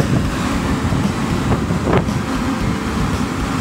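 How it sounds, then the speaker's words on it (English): A Carrier X-Vane blower assembly on a rooftop unit runs with a steady, broad rushing of air and a low rumble, close and continuous, with an outdoor wind-like wash over it. "Just wanted to show this new blower."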